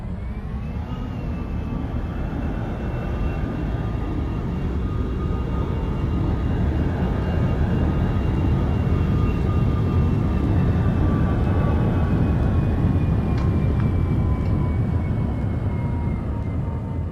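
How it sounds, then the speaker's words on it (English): A jet airliner in the X-Plane 11 flight simulator passes the airport tower at TNCM, a loud, continuous engine roar and rushing whine that drifts gradually downward in pitch for the whole stretch, with no talking. "I watch this airplane all day."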